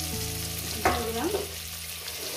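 Potatoes frying in spiced oil in a pan for a light meat curry, a steady low sizzle with a brief louder stir or clatter near the middle, no talking.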